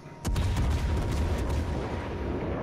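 Naval guns fire in the World of Warships battleship game, a sudden deep boom followed by a heavy rumbling roar that lingers and slowly fades.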